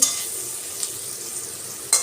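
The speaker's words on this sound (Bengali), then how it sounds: "সবজিগুলো আমি ভাজছি।" Vegetables sizzle steadily in a pan, with a few brief scraping touches as they are stirred, close and moderately loud with no voices.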